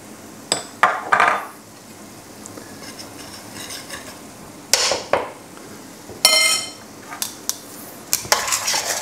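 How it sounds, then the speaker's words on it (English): A spoon scrapes and clatters against a pot as flour is stirred into a lamb ragout casserole, in irregular bursts of sharp metallic knocks and scraping with quiet gaps between, close by and with no voices. "Now, give this a really good mix around."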